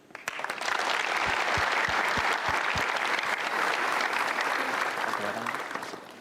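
Sustained audience applause from a seated crowd at a motivational seminar, loud and steady throughout, swelling quickly at the start and tapering slightly at the end with a few heavier claps early on.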